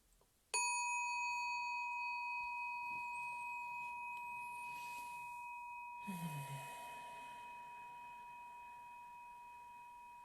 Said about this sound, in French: Je vais faire tinter la petite cloche japonaise.